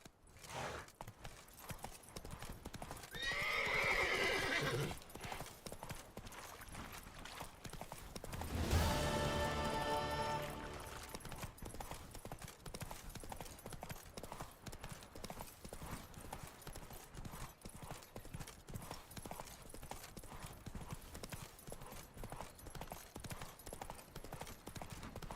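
Hoofbeats of Roach, the horse in The Witcher 3 video game, clop in a steady galloping rhythm throughout, with a louder swell of other game sound partway through.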